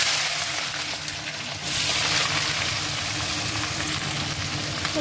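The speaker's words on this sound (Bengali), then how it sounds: "তো চলো, পেঁয়াজটা দিয়ে ভাজুক" Onions frying in oil for a chicken curry, a steady broadband sizzle that swells louder after the first moment and holds evenly close by, with no talking.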